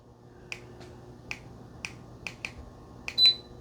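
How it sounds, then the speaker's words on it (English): Remote control of a Levoit 36-inch tower fan being pressed: a run of about eight crisp, close button clicks at uneven intervals, ending in one short high-pitched beep, with a quiet room behind. "I can turn the beeps on and off right from the remote or there."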